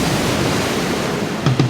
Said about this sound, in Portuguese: o som dos passarinhos e da maré